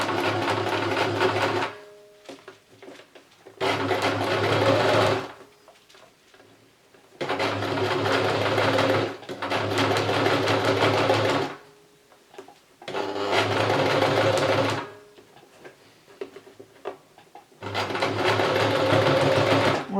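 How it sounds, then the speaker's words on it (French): A sewing machine stitches over the seam of a homemade fabric face mask in about five loud, close bursts of rapid whirring, each lasting a couple of seconds and separated by brief quiet pauses. "c'est quand même plus sympa avec la machine à coudre"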